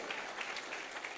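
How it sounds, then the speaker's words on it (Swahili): Audience applause at an education and leadership congress, a steady wash of many hands clapping with no break, moderately faint throughout. "Makofi mazuri ya Stella."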